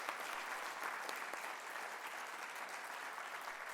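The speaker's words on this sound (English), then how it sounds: "can everybody give them a round of applause for just" Steady audience applause fills a school spelling bee hall, dense and even clapping from a large crowd that holds at a constant level throughout, with no voices rising above it.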